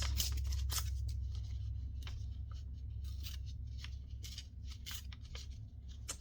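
Paper is handled and torn in a series of crisp, short ripping bursts and crinkles while making an envelope pocket, close to the microphone over a low background hum, with no voices.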